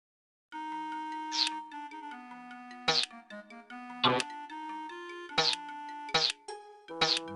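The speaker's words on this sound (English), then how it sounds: "Bell." In the JumpStart 3rd Grade video game, a tuned electronic bell melody plays as a run of stepped chime notes, with sharper accented strikes recurring roughly every second, clear and alone with no talk.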